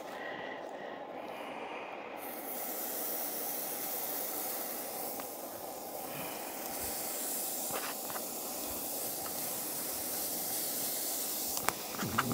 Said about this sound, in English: Get Star's beef cooked up for her